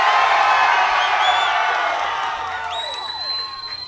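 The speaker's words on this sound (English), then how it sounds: "You mean the roar of applause?" Crowd at the Lakewood Amphitheater roaring with cheers, whoops and applause as Dave Draiman of Disturbed is welcomed on stage, a loud, dense wall of sound that eases slightly toward the end, with a few whistles rising above it.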